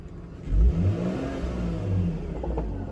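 A BMW E46 320Ci engine idling after its mass airflow sensor was swapped, a low steady mechanical hum with a brief rise near the start that then settles into an even drone, close by with no talk.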